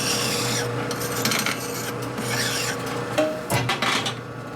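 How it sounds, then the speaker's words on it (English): A metal part for a 1942 Harley-Davidson WLA/WLC springer fork is deburred by hand, making close rasping and scraping strokes, fairly loud over a steady workshop hum. "We'll deburr it."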